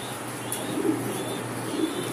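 A racing pigeon coos softly twice, close by, over a steady background hiss.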